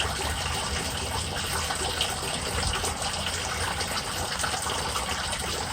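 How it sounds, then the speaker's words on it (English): Water gushes steadily back down into a sump pit after a pump cycle, a continuous close rushing flow with no break. "I allow about 8 gallons to roll back into this pit after the pump cycle has kept that tube free of ice"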